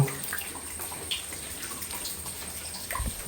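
Water drips and trickles inside Jambuvati cave near Ranavav, Porbandar, soft splashes and scattered drops over a faint hollow background wash.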